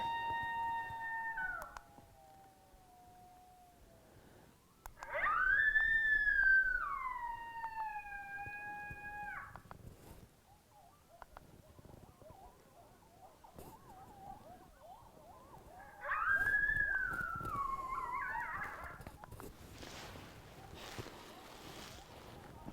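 Distant coyotes howl in two bouts of long, rising and falling wails with yips, heard across open hunting country, with quiet outdoor stillness between.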